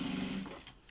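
A sewing machine hums briefly at close range while stitching down a fold on a fabric bag, the motor whirring steadily for about half a second before it slows and stops.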